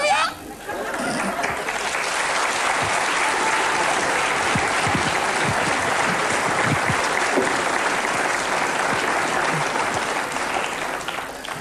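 A French television studio audience applauds steadily and loudly for about ten seconds, a dense wash of clapping that fades slightly at the end, with faint chatter underneath.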